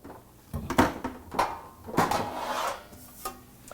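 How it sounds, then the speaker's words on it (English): Cookware clatters as a pan is pulled from a low kitchen cupboard, with a few close, separate knocks and scrapes of metal and wood spread over a few seconds. "I'm going to go ahead and grab a pan down below."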